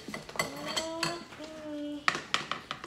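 A spoon and bowl are handled during pumpkin carving, sharp ceramic and metal clinks and knocks coming in a few close, separate hits, with brief voices and tones between them.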